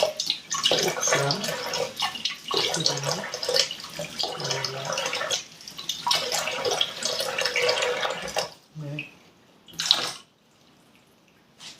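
Water pours and splashes into a bowl while dough for Algerian kesra flatbread is being made, running fairly loud in bursts before trailing off into short drips.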